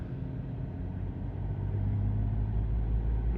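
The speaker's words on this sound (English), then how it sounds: "if we take it to 3000 RPM, try and hold it steady" BMW 530d diesel engine held steady at about 3000 RPM after a DPF clean, a constant loud low rumble that rises slightly partway through and then stays even, with no talk.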